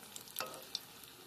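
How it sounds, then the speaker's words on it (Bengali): Bora fritters fry in a pan, giving a steady soft sizzle with a few light scrapes and pops over a short, quiet stretch. "আমি এইভাবে একে একে সব বড়াগুলো ভেজে তুলে নেব।"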